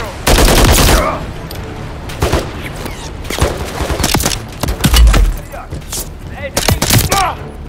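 Rapid bursts of automatic gunfire from the Call of Duty video game, near and loud, repeating in clustered volleys amid battlefield noise, with radio-style voices talking over parts of it.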